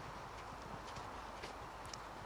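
Hooves of a young horse clip-clop on the ground at a show jumping class, a faint, quick series of soft thuds set against a steady background hiss.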